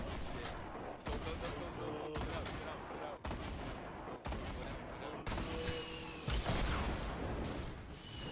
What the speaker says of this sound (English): Uh-oh, grenade launcher.